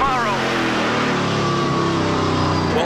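Stock car in a NASCAR Pinty's Series race with its engine misfiring from an electrical problem, a loud sustained engine roar with a stuttering, uneven note, and a commentator talking over it.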